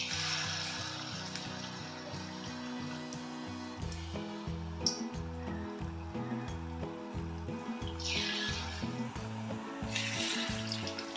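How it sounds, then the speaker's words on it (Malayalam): Banana slices dipped in batter frying in hot sunflower oil for pazham pori, a steady close bubbling sizzle with crackling throughout, brief louder hissing bursts, no talk. "നമുക്ക് പഴം മുക്കിയിടാം."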